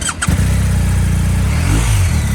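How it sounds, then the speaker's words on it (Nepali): A BMW R 1250 GSA motorcycle with a 136-horsepower engine in Nepal, a loud close boxer-twin idle and rumble that firms up with a brief rev after a short clatter at the start, no talking. "riding the BMW GSA 1250 in Nepal, eh? So, 136 horsepower, guys, 136 horsepower."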